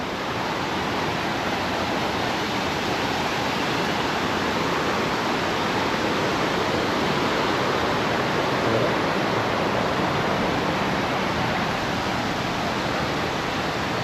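Savatsada waterfall at Chiplun roars as a steady, loud, broadband rush of falling water, continuous and unbroken throughout with no voices.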